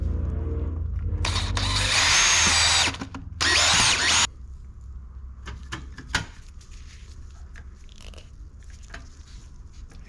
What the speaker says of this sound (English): I've decided I'm going to use some pop rivets